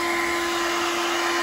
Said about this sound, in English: we're going to simulate it very simply by switching this hairdryer on